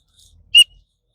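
A small plastic whistle built into a paracord survival bracelet gives one short, loud, shrill blast, with faint low handling noise around it.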